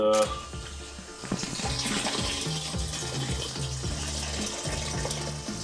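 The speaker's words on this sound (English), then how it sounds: "might as well fill it up with fuel" Diesel fuel runs in a steady stream through a fuel line being flushed during a CAT diesel swap on a Ford F350, a continuous close watery rush with faint clanks behind it.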